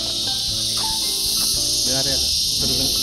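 Cicadas or crickets in People's Park, Tagaytay, make a dense, continuous, high-pitched shrill drone while people talk nearby in the foreground.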